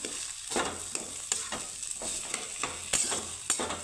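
Boiled potato being stirred and mixed with salt in a pan, a spatula scraping in a steady run of soft strokes, with faint sizzling underneath and no talking.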